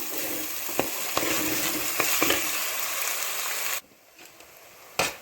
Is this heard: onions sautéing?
yes